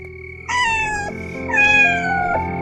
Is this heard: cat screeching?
yes